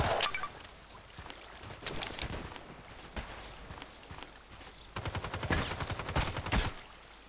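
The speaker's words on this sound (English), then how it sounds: "Why are you shooting at me?" Gunfire in the online shooter Contract Wars: rapid bursts of automatic fire mixed with single shots and footsteps, coming in clusters of fairly loud, nearby crackling.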